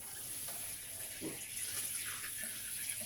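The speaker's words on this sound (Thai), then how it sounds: "เดี๋ยวเรามาลดน้ำผักกันเลยค่ะ" Water poured over potted vegetables on a home balcony, a steady close hiss of flowing water throughout with a brief splash partway, no voices.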